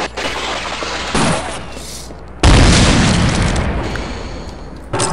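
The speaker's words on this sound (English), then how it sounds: "Um, grenade." Grenade blasts in the shooter game Half-Life, two loud booming explosions about a second apart, the second heavier with a long rumbling tail, amid other game noise.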